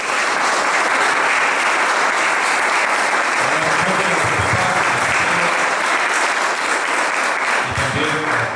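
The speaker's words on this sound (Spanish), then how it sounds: "Quiero pedir un fuerte aplauso para Clara." Strong audience applause at a book presentation, a loud, dense and sustained roar of clapping from a large crowd, with a few voices faintly mixed in underneath.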